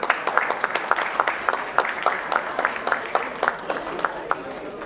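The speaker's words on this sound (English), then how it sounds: "Round of applause, please" Audience applause at a corporate IT summit in India, a modest crowd of scattered, distinct hand claps with an uneven, somewhat sparse rhythm, moderately close and steady throughout.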